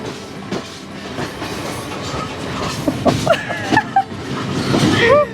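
A train rumbles past close by on the Nine Arch Bridge line, wheels clattering over the rails with a rising squeal of metal near the end.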